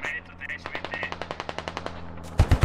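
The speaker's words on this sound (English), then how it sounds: "Oh, here comes the AA gun." Anti-aircraft gun in the video game Squad firing a steady burst of about a dozen rapid, evenly spaced shots, followed by a few heavier, louder blasts at the end.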